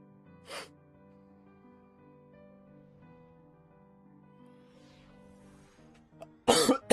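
A person coughs twice, one short cough near the start and a louder burst at the end, over quiet background tones from a card game.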